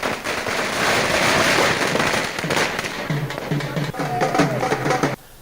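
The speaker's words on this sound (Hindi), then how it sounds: "प्रदेश कांग्रेस कमेटी कार्यालय पर पटाखे फोड़े जा रहे हैं और जश्न मनाया जा रहा है" Firecrackers burst at the state Congress committee office in Rajasthan during a celebration of a Sardarshahar by-election win: a loud, continuous stream of crackling pops with faint crowd voices underneath.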